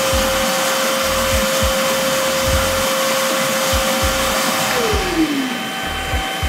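Milwaukee M18 two-battery cordless vacuum runs at full power, a steady, loud broadband whoosh with a fixed whine and rhythmic low thumps, heard alone with no talk.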